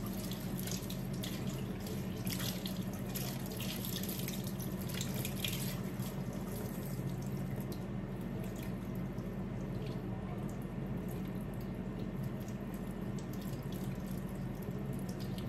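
A kitchen tap runs steadily as water pours into a sink while preparing an iftar meal, a continuous close splashing rush that lasts throughout, alone with no talk.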